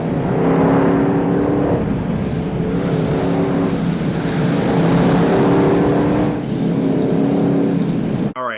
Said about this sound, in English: Joey's built himself the ultimate monster truck and he's gonna get his revenge this Sunday